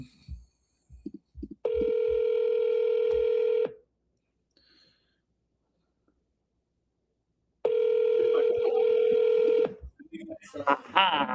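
Two sustained telephone ringback tones sound during a live-stream call, each lasting about two seconds with a silent gap between them, loud and steady. Brief talk and clicks come before and after.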